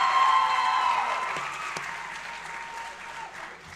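An awards-ceremony crowd claps for coaches and staff, the dense applause starting strong and gradually tapering off, with a faint tone and a couple of sharp knocks mixed in.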